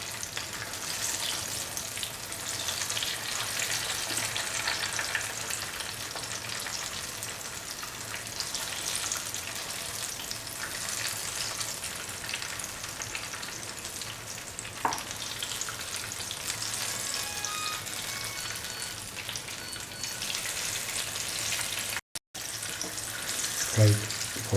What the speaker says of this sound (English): Fry it for 4 to 5 minutes.